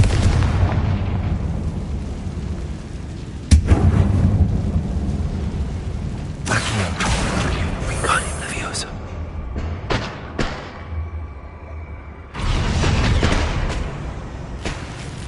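A Confringo blasting curse exploding in a Harry Potter game set in a tomb-like mine, a sharp sudden blast followed by rumbling debris and later booms, with game voices talking between.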